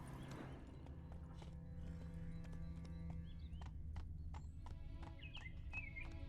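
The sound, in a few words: Geralt's horse Roach galloping, from the video game The Witcher 3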